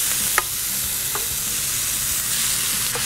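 Marinated beef frying in a pan with toasted garlic, a steady close sizzle with a few brief clicks of a utensil against the pan and no talking.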